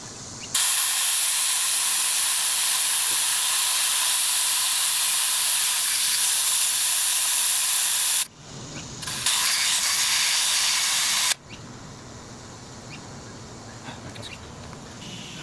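Air hose filling the tires of a 1967 El Camino in a garage: a loud, steady compressed-air hiss runs in long continuous bursts, briefly cut off twice before resuming at a lower level.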